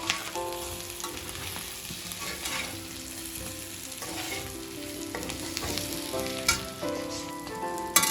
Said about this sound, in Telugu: చూసారుగా తక్కువ ఆయిల్తో, ఇది డీప్ ఫ్రై అండి